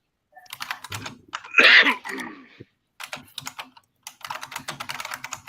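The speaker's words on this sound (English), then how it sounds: "Do not criticize my wonderful keyboard" Keys clatter in quick bursts on a computer keyboard nearby, broken by a throat clearing or cough and short pauses.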